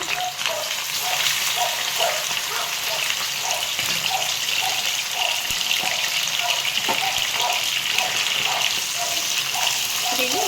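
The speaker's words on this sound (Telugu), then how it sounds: "చికెన్ వేసుకుందామండి ఆయిల్ వేడెక్కింది కదా" Steady, loud sizzling and crackling of chicken frying in hot oil, continuous throughout with a faint voice underneath.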